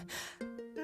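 A voice acts out an old woman panting out of breath after climbing a mountain, with a quick gasp and short, breathy, voiced exhales lasting under a second.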